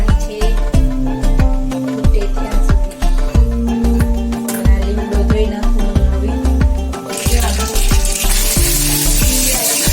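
Chutney tempered in hot oil: a steady sizzle and frying crackle sits under rhythmic percussive music beats, with the hiss swelling louder near the end.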